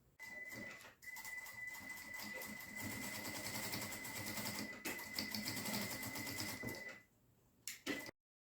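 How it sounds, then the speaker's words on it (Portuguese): Domestic sewing machine stitching the fabric lining of a small eyeglass case, running steadily for about seven seconds with a brief pause near the start, then stopping and leaving a couple of short clicks at the end. "vão iniciar essa costurinha aqui com retrocesso, faz toda a volta e finaliza aqui com retrocesso"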